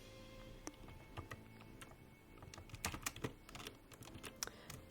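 Typing on a computer keyboard at home, with quick, irregular key clicks that are close and fairly soft, and no voices.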